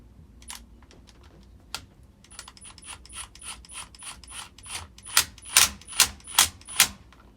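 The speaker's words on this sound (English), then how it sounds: "Screw the knob back on. Tighten the nut." A nut is tightened on a Jeep shift knob with a ratchet, giving sparse light clicks and then a run of sharper, louder metallic ratcheting clicks close by toward the end.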